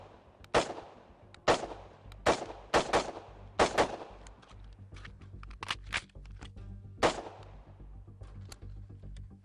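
Carbine shots ring out at a shooting range: seven or eight sharp, loud reports come at irregular intervals, each with a short decaying echo, and no one talks.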